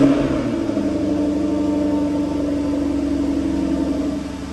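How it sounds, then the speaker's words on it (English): A Jaguar F-Type V8 holds a high, steady, close-up rev for several seconds after a cold start before easing slightly toward the end. "The engine over revs for a few moments in order to protect the catalytic converter on start."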